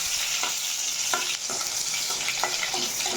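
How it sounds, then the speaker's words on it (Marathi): Onion hits hot oil and fries with a steady loud sizzle, while a utensil scrapes and stirs it in several short strokes up close. "तेल गरम झालेलं आहे. हा कांदा टाकून घेते."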